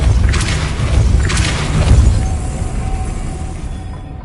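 Depulso force spell striking in Hogwarts Legacy, a couple of deep booming thuds with bright whooshing bursts early on, then a low rumbling tail fading out.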